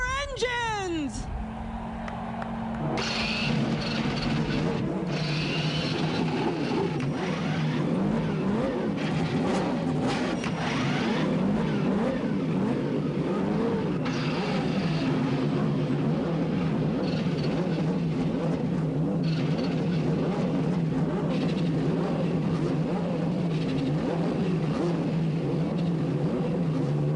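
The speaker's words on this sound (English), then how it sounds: "Gentlemen, start your engines!" IndyCar race car engines firing up and revving together on the grid at Michigan International Speedway for the 1992 Marlboro 500, a dense, loud, sustained roar with rising and falling revs, crowd noise and an announcer's voice underneath.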